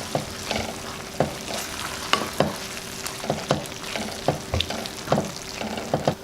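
Spiced beef in a pan for wet fry beef, stirred with a spoon that scrapes and clacks at irregular intervals over a steady low sizzle, close up with no voices.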